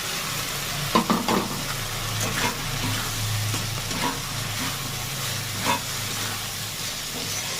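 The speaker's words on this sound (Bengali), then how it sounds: "এখানে যে ভেজে রাখা আলু আর পটলটা আছে এটা দিয়ে ভালো করে কষিয়ে নেবো" Fried potato and pointed gourd cook with prawns in a pan, a constant steamy sizzle and hiss with periodic spatula scrapes and stirs, a low hum beneath, and no talking.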